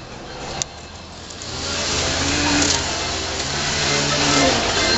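A homemade off-road go-kart's small engine runs nearby, a steady droning hum that swells slightly as it revs, after a brief click at the start.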